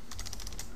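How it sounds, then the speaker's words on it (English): Quick keystrokes on a computer keyboard, about seven close, crisp clicks in a steady run over a faint constant hum, with no voices. "if I just type"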